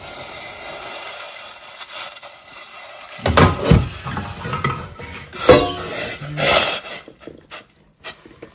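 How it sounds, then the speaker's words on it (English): Potato starch mixture stirred in a bowl for smoker bisquettes: a quiet hiss at first, then several close, uneven bursts of scraping and knocking from a utensil against the container. "I'm gonna give this a good stir"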